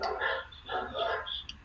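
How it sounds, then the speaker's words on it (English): Dogs bark in the background of a home workspace, a short run of muffled, moderately loud barks in quick succession with no talk over them. "I apologize for the barking dogs in the background if you all can hear it."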